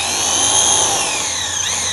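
A power drill bores a small lead hole into an aluminium truck tray, its motor whining steadily and loudly close by for the whole moment, pitch shifting slightly as the bit bites, with no talk.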